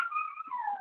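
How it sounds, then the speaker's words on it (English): A dog gives a single high, drawn-out whine that slides downward in pitch, close and fairly soft, with no bark and no voices. "that's my dog Chip."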